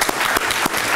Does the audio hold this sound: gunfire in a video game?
no